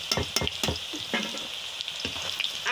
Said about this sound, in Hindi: मैं केले को सब्जी बनाने के लिए केला फ्राई कर रही हूँ